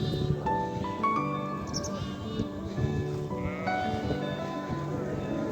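A flock of sheep and lambs bleats repeatedly, higher thin lamb cries mixing with deeper adult calls, close by and continuous over a low background murmur.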